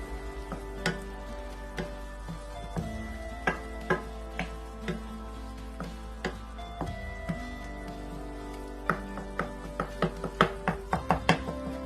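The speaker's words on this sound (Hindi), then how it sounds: "इसको हल्का सा मिक्स करूंगी।" Chicken and okra being stirred in a cooking pan, with soft scraping and tapping clicks from the utensil arriving in irregular bursts over a low steady background. No one speaks.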